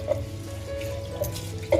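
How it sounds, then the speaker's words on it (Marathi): Water is poured into a vessel of rice set to soak for shrimp biryani, a brief close trickle and splash with a few drips. "तांदूळ थोडा टाईम भिजत घालायचे आहे तर दहा मिनटं भिजत घालते पाणी ओतून ठेवते"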